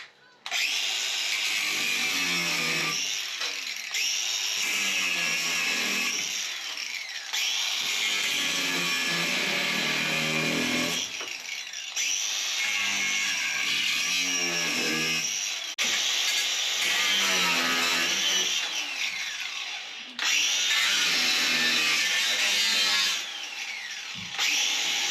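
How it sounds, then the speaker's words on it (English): An angle grinder works on a boat, an Ocean Pirate 30, in long bursts of loud, harsh high-pitched grinding, repeatedly paused and restarted, close up with no talk. "let's get the old grinder out and do some grinding"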